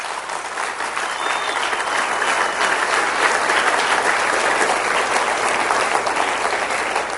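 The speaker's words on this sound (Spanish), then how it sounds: "denle un aplauso al Rey bendito" A church congregation breaks into loud, sustained applause during a service. Many hands clap in a thick, unbroken roar that stays at full strength for the whole stretch.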